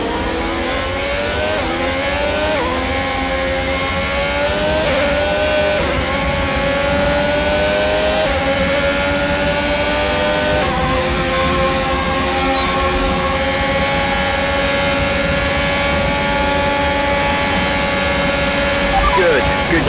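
A Formula 1 race car engine in the F1 2021 racing game screams loud and steady through all twenty seconds, its pitch climbing and shifting through gear changes, with a team radio voice talking over it.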